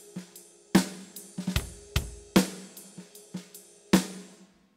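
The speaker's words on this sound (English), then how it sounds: "he's got this kind of mellow sort of ride cymbal part." Live drum groove with a mellow ride cymbal pattern and a sparse bass drum, sharp cymbal-and-drum hits ringing out in a loose, steady rhythm, close and clear with no talking.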